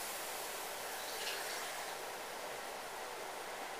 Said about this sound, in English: Got some simmer frying in action here